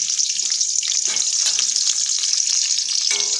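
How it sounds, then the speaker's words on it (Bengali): Okra and pointed gourd pieces frying in hot oil in a pan, giving a loud, steady, close sizzle that runs unbroken, with faint clinks now and then. "তো পটল 2টো আর ভেন্ডি এগুলো আর কি ভেজে নিই।"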